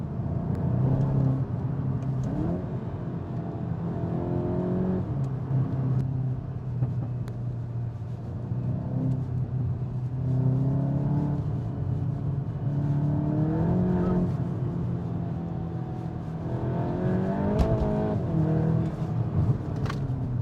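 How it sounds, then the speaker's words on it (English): A Cupra and a VW Golf Clubsport engine drone and rev from inside the cabin, a steady low rumble with rising and falling pitch as the car accelerates and shifts, plus occasional sharp crackles from the exhaust. "So they both actually pop and bang their exhaust."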